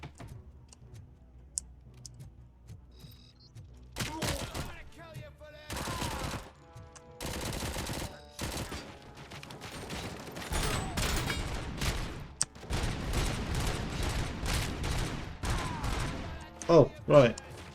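Gunfire from the video game Robocop Rogue City, with bursts of shots starting a few seconds in and continuing in dense clusters, loud and close, mixed with game sounds and some speech.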